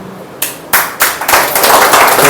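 A seminar audience in Mandi, Himachal Pradesh breaks into applause, a few scattered claps at first, then swelling into loud, dense, sustained clapping from a large crowd nearby.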